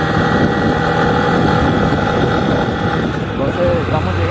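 A motorcycle engine runs steadily while riding, a close, continuous mechanical drone with wind noise and some voice over it.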